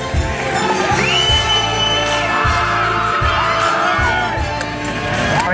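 A loud, dense crowd cheers at a desert off-road race finish, whoops and shouts layered over steady roaring and occasional thumps.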